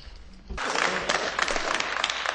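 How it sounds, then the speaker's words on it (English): An audience in a European parliamentary chamber breaks into loud, dense applause after a brief quiet start, the clapping sustained and close for the rest of the moment. "They applaud."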